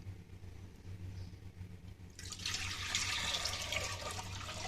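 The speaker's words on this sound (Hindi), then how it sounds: "इसमें 1 जग पानी डाल दी। ठंडा पानी, नॉर्मल पानी है।" Cold water from a jug pours into a clay cooking pot set on a stove, a steady broad splashing rush that starts about halfway through and continues to the end over a low background hum.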